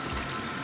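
Cold tap water streams over tie-dyed fabric during rinsing, a steady close hiss of running and splashing water with no talking.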